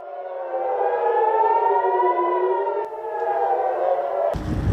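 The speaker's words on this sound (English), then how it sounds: "Air raid sirens ring out in the Israeli city of Haifa." An air raid siren in Haifa, Israel wails steadily, its tone slowly rising and falling, loud and sustained, before ending in a sudden burst of noise.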